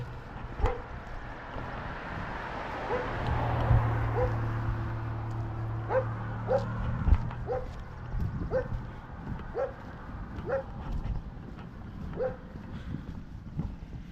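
A dog barks in a string of short, sharp yips spaced across a street walk outdoors, with a low steady engine-like drone underneath and faint movement noise.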